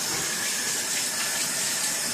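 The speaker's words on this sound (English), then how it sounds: "So you can tell it's already boiling." Water boiling hard in a covered pan on a small kitchen stove gives a steady, loud hiss of steam with no pause, cranked high and heard up close.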